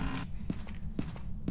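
Ghost footsteps in the Phasmophobia video game land as three or four evenly spaced, dull thuds, moderately close, over a low background murmur.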